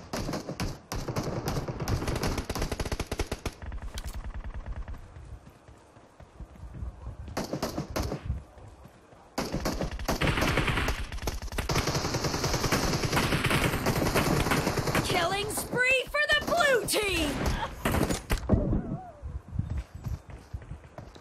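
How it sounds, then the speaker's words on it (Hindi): Rapid bursts of video game gunfire from bots in a team deathmatch, with loud overlapping volleys and brief lulls, heard up close. "ये लोग इतना जोर से फायरिंग कैसे कर रहे हैं।"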